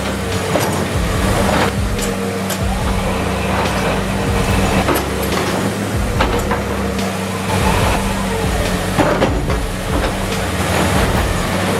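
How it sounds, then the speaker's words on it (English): A steam train rolling through trees, a loud continuous rumble of wheels and cars with rhythmic clacking beats and occasional sharp transients, heard close and steady throughout. "That steam train cutting through the trees looks straight out of a fairy tale."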